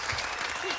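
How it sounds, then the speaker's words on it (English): Studio audience applause, a dense wash of clapping hands, fills the brief moment at steady volume. "Give her a round of applause."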